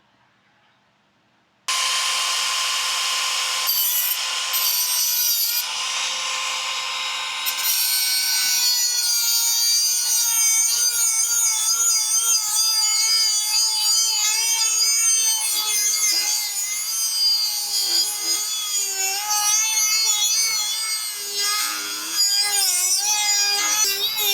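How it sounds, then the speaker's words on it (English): A small Dremel rotary tool cuts about half an inch off a part while a Harbor Freight trailer's wheel and hub assembly is upgraded. The grinding whine starts abruptly, then holds steady and loud for over twenty seconds, close to the listener, with no talking. "get my little Dremel tool and just cut about a ½ inch off"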